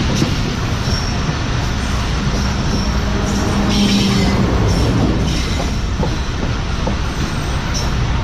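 A GU40 light-power locomotive rolls past up close in Pakistan, a loud steady rumble of wheels and rail noise with faint squeals, continuous throughout without voices.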